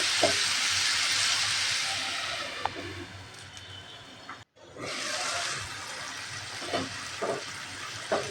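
Malabar spinach and potatoes cook in a pan with a continuous close sizzling hiss. Midway the hiss cuts out for a moment before it resumes, and soft scraping knocks follow.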